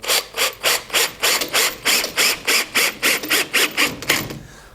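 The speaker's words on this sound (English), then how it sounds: "what I'll do is drive these screws in through the guide hole" A driver turning screws through guide holes into wood makes a rapid, even series of about fifteen ratcheting bursts, close and loud, ending in a short scrape.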